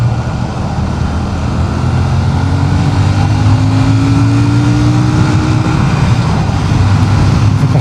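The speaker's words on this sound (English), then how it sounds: "The rev limiter there." Royal Enfield Shotgun 650 motorcycle engine held at high revs against its rev limiter during a demo test ride, a loud steady drone with a rising tone mixed with rushing wind noise, no talking.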